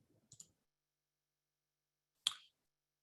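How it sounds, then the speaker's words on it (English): A computer mouse clicking the Next button in a customer portal: a faint quick double click, then a single sharper click about two seconds later, in otherwise near silence. "I'm going to go ahead and click next"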